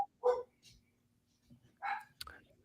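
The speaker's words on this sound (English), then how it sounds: "I'd like to apologize for the dogs if y'all can hear them." A few short barks from a dog, spaced apart and moderately close, with quiet pauses between them.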